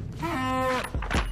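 A cow in Reigns: Her Majesty gives one clear, drawn-out moo up close, followed by a couple of short low grunting sounds.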